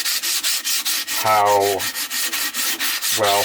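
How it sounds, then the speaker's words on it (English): Sandpaper rubs over a wood piece to smooth out rasp marks, a close, steady rhythm of quick back-and-forth scratching strokes with two brief squeaky tones mixed in. "just hitting it with a little sandpaper to take out the rasp marks"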